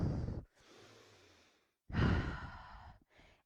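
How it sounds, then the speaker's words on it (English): Slow, audible yoga breaths come in and out, a long exhale, a pause, then a deeper, louder breath cycle and a short trailing exhale, with no talking. "Breathe in and out."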